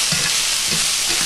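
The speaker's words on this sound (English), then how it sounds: "Just trying to make sure I'm searing them in a couple different places." Foraged oyster mushrooms sear in a hot pan, a loud, close, continuous sizzle with faint soft thumps as they are moved around, and no voices.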